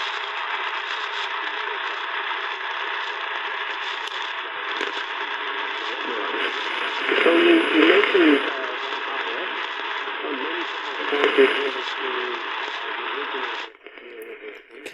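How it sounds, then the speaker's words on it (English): Crackly AM radio hiss from a Panasonic R-1493 portable fills the clip, with bursts of static pops and a faint warbling signal underneath, cutting out near the end. "I know you're hearing pops of static and stuff"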